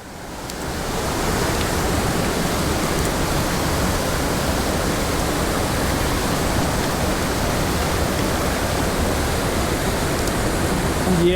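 Wilderness waterfall pouring steadily into a trout stream, a loud, dense, unbroken roar of rushing water close by, with no voices.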